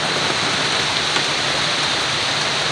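Heavy rain pours down in a steady, dense hiss, close and constant with no breaks, like water running off surfaces during a downpour.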